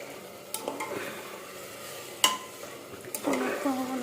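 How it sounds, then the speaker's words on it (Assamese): Meat sizzles as it is fried in a pressure cooker, while a utensil scrapes and clatters against the metal pot in several sharp knocks amid the steady frying hiss. "মাংসখিনি দি লৈ এতিয়া ভালকৈ ভাজি ল'ম"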